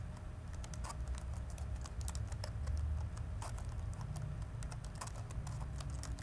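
Typing on a computer keyboard, rapid irregular key clicks in quick bursts, close and fairly quiet over a low background hum.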